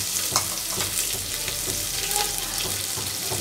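Onion and whole spices fry over medium heat in a pan for soya bean masala rice, with a continuous close sizzle and rhythmic stirring scrapes.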